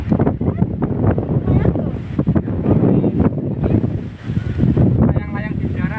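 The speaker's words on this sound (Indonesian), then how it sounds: "Anginnya kencang banget loh, teman-teman." Strong wind gusting outdoors in the southern Blitar countryside, loud rumbling buffets battering the microphone throughout, with people talking under the noise.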